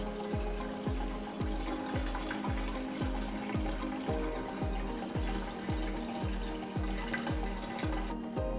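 Cold tap water runs steadily over pork ribs in a kitchen sink, a constant close splashing rush with a regular pulsing pattern throughout.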